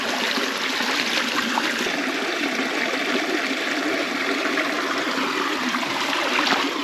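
Steady rushing water pours continuously to soak something outdoors at a farm field site, a dense close hiss and splash that stays even throughout with no pauses and no talking.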